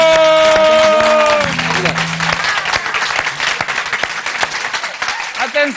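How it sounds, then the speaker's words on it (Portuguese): Audience applause at a live music show breaks out with a dense stream of claps, loud and close, rising over a held musical tone and voices that fade within the first second and a half. "Aplauso!"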